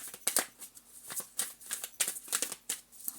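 A deck of cards being shuffled by hand close up, with repeated quick riffling bursts and soft slaps in an uneven rhythm, no talking.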